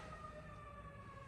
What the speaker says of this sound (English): I'm gonna wait for the siren to go by